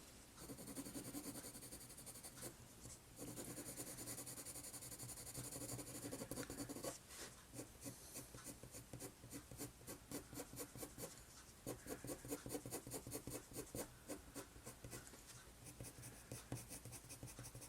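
A coloured pencil is stroked hard and fast across paper to draw black fur, giving a continuous dry scratching and rubbing in quick repeated strokes, close and quiet, with no talk.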